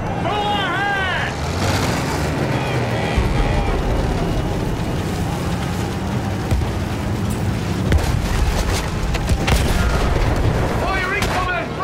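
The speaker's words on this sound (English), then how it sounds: "Fire incoming! Artillery's tearing the boys apart!" Artillery shells explode in Battlefield 1 amid a World War I trench battle, with continuous heavy blasts, rumbling impacts and gunfire layered under shouted soldier voices and whistling incoming rounds.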